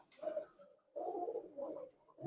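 Blue-eyed Pulsar-line pigeons of the Dasu line give quiet throaty coos in three short bursts separated by brief pauses, faint and nearby.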